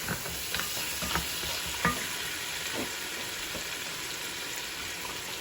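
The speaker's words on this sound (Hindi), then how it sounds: "हमारा जो गोश्त है वो बड़े अच्छे से भुन रहा है" Mutton being fried (bhuna) in a pan, giving a continuous crackling sizzle with occasional scraping stir clicks, close and steady.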